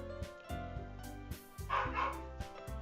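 Several dogs barking in a run of sharp, repeated barks and yips close by, over a steady music background.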